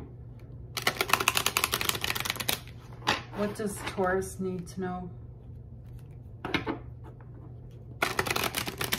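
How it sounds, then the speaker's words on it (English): A deck of angel answer cards is shuffled close by in quick riffling bursts, a flurry at the start and another at the end, with a person speaking softly in between. "Let me just shuffle these three times."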